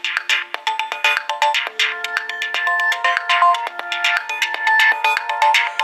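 Motorola Droid Turbo smartphone ringing for an incoming call: a bright, repeating electronic ringtone melody with steady pulsing notes, loud and close throughout, no voices.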